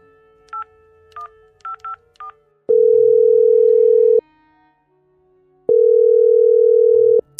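A landline telephone makes a call. Four short keypad dialing beeps come first, then two long steady tones separated by a pause, clear and close with no talk.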